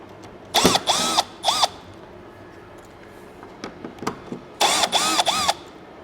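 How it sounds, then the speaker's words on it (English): Short bursts of a power driver whirring as screws are backed out with a number 2 Phillips bit from the uprights of a Kodiak ramp, three quick runs, a pause with small clicks, then three more runs. "we're gonna remove two screws, one here and one here on each side of the uprights"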